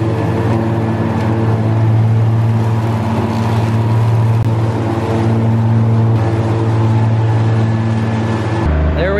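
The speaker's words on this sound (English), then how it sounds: "I'm gonna mow where it used to sit." Lawn mower engine cutting scruffy, tall grass in a farmyard, a steady, loud, close droning hum that holds throughout and drops in pitch and level just before the end.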